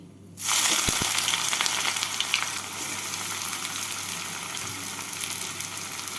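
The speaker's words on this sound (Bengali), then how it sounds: "এবার এর মধ্যে কোচানো পেঁয়াজগুলো দিয়ে দিচ্ছি" Chopped onions dropped into hot oil with sugar, bursting into a sudden loud hiss that settles into a steady, close frying sizzle.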